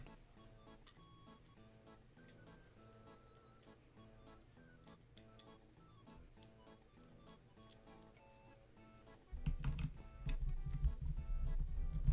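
Small screws being driven back into a school laptop, close and quiet: a series of faint ticks and tiny metallic clicks from the screwdriver, ending with a louder burst of handling rumble.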